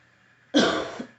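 One harsh, close allergy cough from a teacher during a lesson bursts out after a quiet moment, and a second cough begins right at the end.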